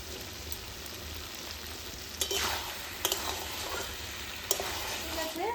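Ridge gourd being sautéed in a wok, a soft steady sizzle with a few sharp scrapes and clinks of stirring, fairly close and moderately quiet.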